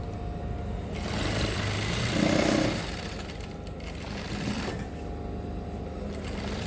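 Sewing machine running steadily while stitching the side seam of culottes at a 0.5 cm allowance, a continuous close motor whir with slight speed swells and no talking.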